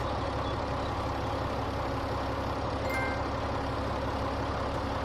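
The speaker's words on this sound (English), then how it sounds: "That tractor's loud" A tractor engine idling in The Walking Dead video game, a loud, steady low rumble that drones on unbroken, with a faint brief clink partway through.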